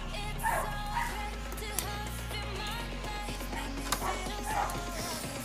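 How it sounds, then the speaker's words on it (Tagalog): A dog barks and yips in short, scattered bursts, fairly close but not loud, over a constant low mechanical hum. "kasi ingay ng aso namin"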